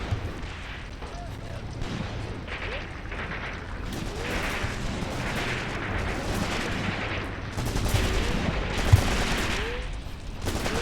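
Close-combat gunfire in the World War II strategy game Graviteam Tactics Mius-Front, with rifle and machine-gun shots and heavier artillery bursts rumbling over a dense battle din, building louder toward the end.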